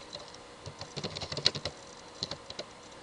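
Someone types HTML code on a computer keyboard, with a brief run of soft, uneven keystrokes clicking close by in a quiet room.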